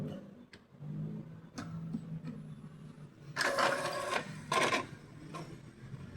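Mechanical whirring and ratcheting from an Epson L series inkjet printer with intermittent paper feeding, mostly soft clicks with two louder bursts of feed-roller grinding in the middle, recorded close up without talk.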